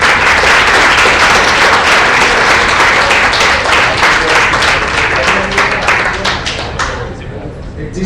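Sustained, loud applause from a seated audience at a youth political-science forum, dense clapping lasting several seconds before thinning out and fading toward the end.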